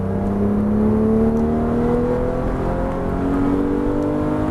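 A Porsche GT3 at full throttle on the Nogaro circuit, its engine note climbing steadily and loud from close by as it accelerates through the gears, with no talk over it.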